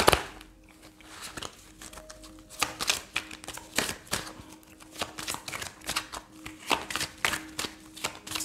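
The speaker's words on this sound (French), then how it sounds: "Alors, on va tirer d'autres cartes pour compléter tout ça." Tarot cards being shuffled for a reading, a run of crisp riffling and flicking bursts repeating irregularly at close range with quiet gaps between.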